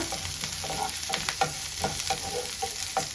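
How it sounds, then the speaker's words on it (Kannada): Onion, green chilli and curry leaves frying for shavige bath, a continuous close sizzle with regular spatula stirs and scrapes against the pan every half second or so, no talking. "ಹಸಿಮೆಣಸಿನ್ಕಾಯಿ ಮತ್ತೆ ಕರ್ಬೇವಿನ ಸೊಪ್ಪು ಸೇರಿಸ್ಕೊಳ್ತಾ ಇದ್ದೀವಿ ಇಷ್ಟೊಂದು ನೀಟಾಗಿ ಫ್ರೈ ಮಾಡ್ಕೊಳ್ಳೋಣ"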